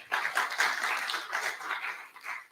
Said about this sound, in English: I would like to get an applause for each of them separately